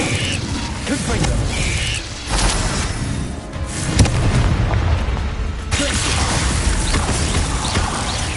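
Hogwarts Legacy spellcasting with a Confringo fire blast, rumbling booms and crackling impacts over a dense, continuous game soundscape, loud and busy throughout.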